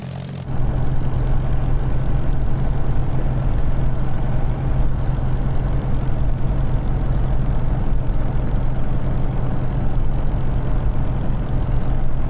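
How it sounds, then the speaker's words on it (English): A Supermarine Spitfire Mk IXc's piston engine idles continuously in Microsoft Flight Simulator, a steady, rumbling, low droning hum that holds even and loud throughout with no voices. "And this has very realistic engine behaviors"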